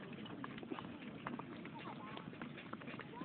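A plump donkey walks along a street at Baluarte in Vigan, Ilocos Sur, its hooves giving faint, steady clip-clops under a constant wash of background noise and low chatter.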